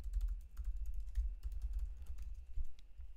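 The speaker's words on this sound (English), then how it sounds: "we can go ahead and type in that address again" Rapid, close typing on a computer keyboard as an email address is entered, a steady run of soft clicking keystrokes with short pauses and no voices.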